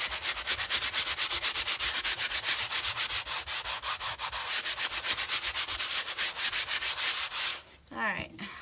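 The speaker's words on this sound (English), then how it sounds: "I definitely need to invest in some better sandpaper." Steady back-and-forth rasp of sandpaper rubbing over a chalk-stenciled Christmas design on canvas, many quick rhythmic strokes close up, ending abruptly with a brief shuffle near the end.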